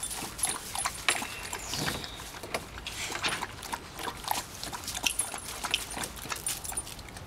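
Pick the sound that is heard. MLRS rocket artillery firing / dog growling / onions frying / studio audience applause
dog growling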